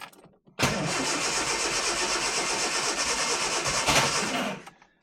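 A Ford Escort Mexico engine cranks on a test run after a fuel pump replacement, with petrol poured into the top. It gives one loud, continuous churning crank of about four seconds, close up, then stops.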